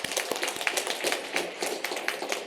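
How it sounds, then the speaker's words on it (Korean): A church congregation applauds, many hands clapping in a moderately quiet, fairly even patter with some individual claps standing out, heard alone without speech. "하늘 소망과 또 위로로 살아가시도록 우리 박수로 한번 격려하겠습니다."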